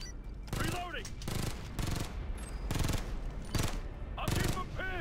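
Rapid automatic gunfire in the video game Ghost Recon: Future Soldier, loud repeated bursts with short gaps between them, mixed with shouted voices and game effects.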